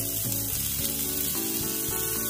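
Turkish köfte meatballs frying in a grill pan, giving a steady, close sizzle throughout with a tonal melodic backing underneath.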